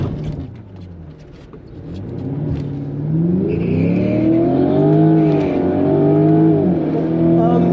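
A factory Jaguar F-Type launching hard down the Santa Pod drag strip, engine revving and pulling up through rising, sweeping tones, loud and close throughout with a whine layered over the engine note.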